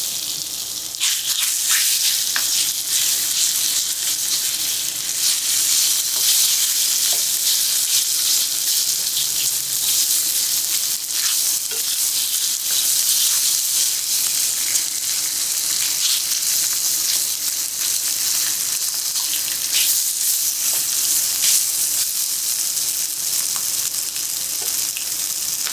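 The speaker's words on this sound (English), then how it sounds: "I've just got some canola oil in the pan, and I'm just going to quickly fry this" Food frying in canola oil in a stainless steel pan gives a steady, dense hiss and sizzle that runs unbroken throughout, close and fairly loud, with faint crackles.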